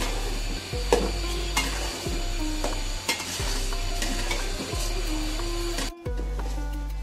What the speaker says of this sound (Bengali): এখন আমি চাউলটা ভালো করে নেড়ে চেড়ে নেব তেলের সাথে।